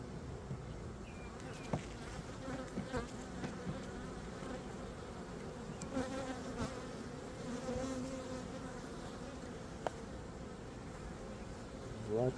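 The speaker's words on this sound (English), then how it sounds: "Lots of bees in here." Dense, steady buzzing of many honeybees inside an open beehive during frame work, a continuous close-up drone with a few faint clicks and handling knocks.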